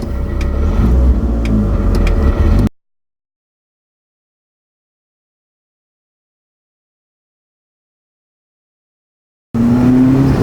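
A Toyota GT4 with a BEAMS turbo engine pulls away, its engine rumbling loud and close for a couple of seconds, then a long stretch of complete silence before the engine sound returns.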